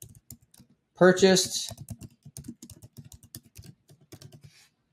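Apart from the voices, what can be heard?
typing on a computer keyboard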